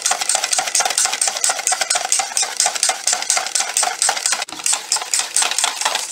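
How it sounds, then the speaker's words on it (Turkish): A spoon stirs lemon juice into an egg mixture for tripe soup, a quick, steady clinking and scraping against a bowl that keeps up throughout, close and fairly loud. "Ekledim ve karıştırmaya devam ediyorum."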